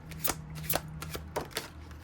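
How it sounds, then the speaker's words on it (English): A deck of tarot cards being shuffled by hand, a quiet close series of soft riffling bursts in an uneven rhythm, with no talking. "Ooh, these don't like to shuffle, do they?"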